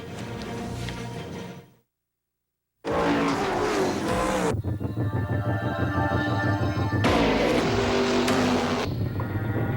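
A race car roars past with high revving engine noise, briefly cut to silence before a loud, sustained whining engine drone returns with changing pitch and tire noise, layered under a broadcast soundtrack.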